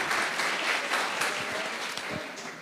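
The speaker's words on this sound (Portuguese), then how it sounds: "Vamos aplaudir a Jesus." Church congregation clapping together in steady, dense applause during a worship service, loud and continuous throughout with no talk over it.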